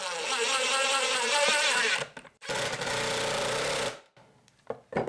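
A power drill drives two screws into a wooden router jig: two loud, close whirring bursts of about two seconds each, separated by a brief pause, followed by quieter clicks and handling.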